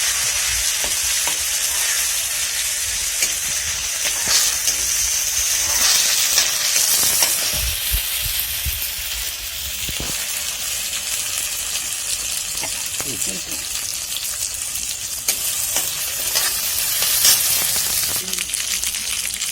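Ginger garlic paste fries in a pan, a continuous close sizzle with stirring scrapes and occasional clinks, steady and fairly loud throughout.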